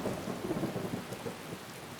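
A deep, broad rumble of Skyrim thunder rolls continuously under steady rain noise, loud and sustained for the whole stretch.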